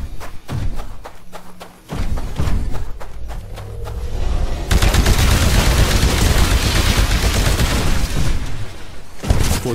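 Small arms gunfire in the video game Titanfall, a run of sharp rapid shots and thuds that builds into a loud, continuous burst of fire.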